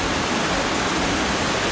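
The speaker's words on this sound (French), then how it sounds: "Là on a la cascade, la petite cascade." Small waterfall cascade on a hike in the Jura, a close, loud, steady rush of falling water filling the whole clip with no talking.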